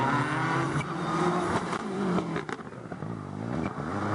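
Subaru Impreza WRC rally car driven hard along the Fleetwood stage, its engine revving loudly and changing pitch close by through acceleration and gear changes, with no talk over it.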